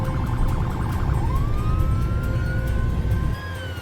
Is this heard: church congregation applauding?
no